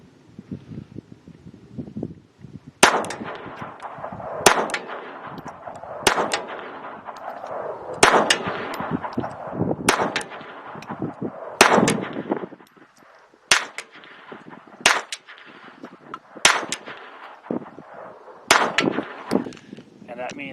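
Ruger LCP II pistol in .22, firing 40-grain Federal Champion rounds at steel targets: roughly a dozen sharp shots at uneven spacing, each a loud crack with a ringing metallic clang, moderately close.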